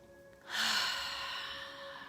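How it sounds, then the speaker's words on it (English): A deep breath, heard as a long, soft inhalation or sigh of moderate loudness close to the microphone that rises abruptly and then slowly fades, with no talking. "Take a nice deep breath."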